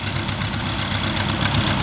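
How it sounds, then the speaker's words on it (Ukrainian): A tractor engine on a farm field during corn sowing runs steadily close by, a continuous low idling rumble with a slight knocking texture and no talk over it. "Ось їде і трактор."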